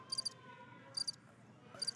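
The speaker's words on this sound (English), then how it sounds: "No, those are crickets, Anne." Crickets heard in the background during a curling broadcast, three short bursts of high, rapid chirping spaced evenly over a quiet background.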